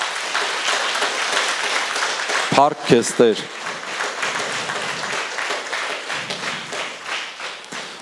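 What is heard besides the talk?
congregation applauding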